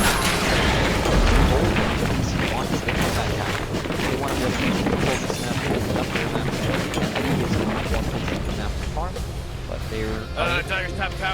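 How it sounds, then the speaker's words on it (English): Dota 2 battle sounds as the Dire top tower comes under attack, a steady din of booms, impacts and spell effects running throughout, with a caster talking over it. "Dire's top tower is under attack."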